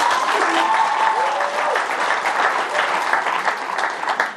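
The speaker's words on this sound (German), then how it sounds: "Applaus." Steady audience applause at a Hamburg live fan Q&A show, loud and continuous throughout, with a few whistles and shouts from the crowd mixed into the clapping.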